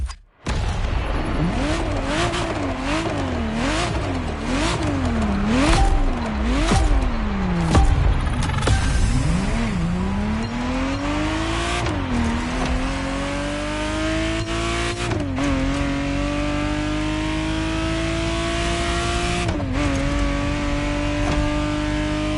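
A Ferrari Testarossa engine in The Crew Motorfest racing game, revving loudly through repeated rising and falling gear changes, then pulling into long sustained acceleration with occasional shifts, close and continuous with no talk.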